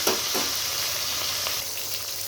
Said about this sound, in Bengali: তেলটা গরম হয়ে গেছে এবার মাছগুলো আমি দিয়ে দিব